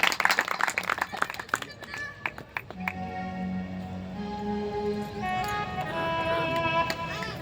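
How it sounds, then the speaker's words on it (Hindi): An audience at a Shiv Mahapuran katha in Surya Nagar, Alwar, Rajasthan bursts into loud clapping that rattles for a few seconds then tapers off as sustained musical tones and a voice take over. "इनके लिए जोरदार ताली बजा करके अभिनंदन करेंगे"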